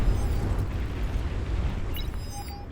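A commander unit blowing up during a naval battle in the strategy game Supreme Commander, a sustained low rumbling explosion that fills the whole stretch with dense, heavy booming and no talk over it.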